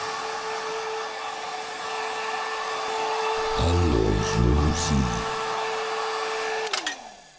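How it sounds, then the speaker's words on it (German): A hair dryer blows steadily with a whining hum, drying hair at home in a comedy sketch; a voice briefly speaks over it before the dryer cuts off near the end. "Susi Sorglos sitzt zu Hause und föhnt ihr Haar."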